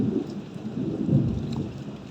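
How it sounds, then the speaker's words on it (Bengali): Heavy thunder rumbling low and continuous beneath steady rainfall, a dense, even wash of rain with deep rolling booms swelling in the middle. "প্রচণ্ড পরিমাণে মেঘের গর্জন হচ্ছে, বৃষ্টিও শুরু হয়ে গেছে।"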